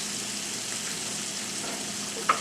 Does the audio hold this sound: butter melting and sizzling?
yes